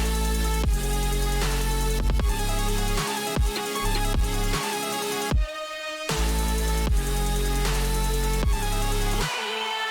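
A distorted, plucky Serum synth lead in Ableton, shaped by a filter and washed in reverb, plays rhythmic stabs over a dense, loud electronic mix with heavy bass and beats, briefly dropping out twice.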